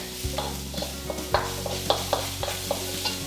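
Chopped garlic stir-frying in a hot pan, a steady sizzle broken by regular scraping strokes of a utensil stirring it, close and clear with no talk.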